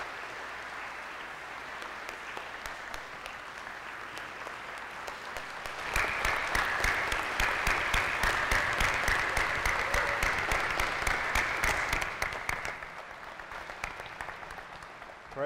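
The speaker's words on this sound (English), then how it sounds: "let's give a applause for our seniors." A church congregation claps for graduating seniors during a Sunday worship service, with scattered clapping first, then swelling into loud, dense applause that fades toward the end.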